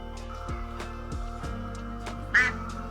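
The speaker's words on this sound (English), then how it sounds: "The duck's scared of you, Peanut." A frightened duck on a homestead in the Appalachian Mountains gives a single short quack, loud and close, over a steady low background hum.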